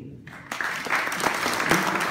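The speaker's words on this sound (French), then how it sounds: "Je peux applaudir tout le temps." Audience applause after a speech by the president of the Rungis market, starting from near silence and swelling into a full, loud round of clapping.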